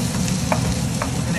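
Shrimp and corn sizzle and fry in a pan on an electric stove, a steady continuous crackle with a couple of brief stirring scrapes.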